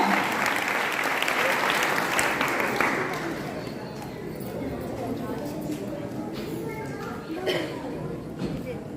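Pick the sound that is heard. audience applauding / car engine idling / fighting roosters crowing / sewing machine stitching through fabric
audience applauding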